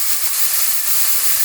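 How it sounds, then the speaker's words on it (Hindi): Finely chopped carrots and capsicum frying in a pan, giving off a steady, loud, close sizzle and hiss with no pauses and no talk. "थोड़ा सा फ्राई करना है।"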